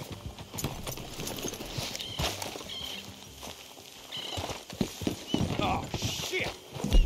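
Horses in Red Dead Redemption 2 clip-clop and neigh close by, hooves thudding irregularly with a whinny, while characters talk over them.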